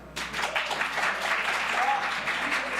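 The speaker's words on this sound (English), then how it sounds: "A round of applause of anyone who has seen that online" A crowd breaks into applause, a dense wash of clapping that holds steady for a couple of seconds.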